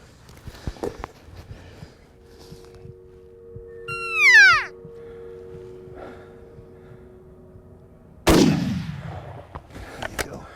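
A single sharp, loud report from a Savage .340 rifle fired from a prone position outdoors, followed by a long fading tail of echo, with a bird's rising chirp and faint clicks earlier.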